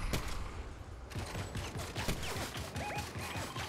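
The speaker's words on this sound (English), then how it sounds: "there's people shooting" Gunfire from other players in a battle royale video game, dense rapid bursts of automatic shots and cracks layered over loud wind and movement noise, steady and close throughout.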